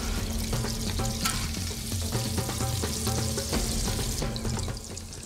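Carrot frying in oil on a hot stove plate, a steady loud sizzle with faint stirring clatter running the whole time, easing slightly near the end.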